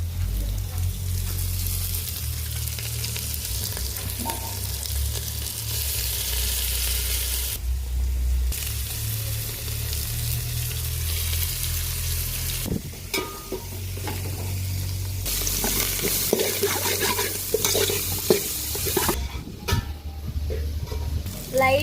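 Spiced curry with coriander, mint and chili powder frying in a pan, a steady loud sizzle with a spoon scraping and stirring through it, near and continuous, no talk.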